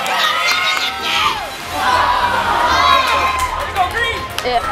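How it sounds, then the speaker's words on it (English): BFA hockey fans cheer and shout at a game, a loud, dense crowd roar with young voices whooping and yelling throughout, swelling and dipping. "The cheering, the chants, every game"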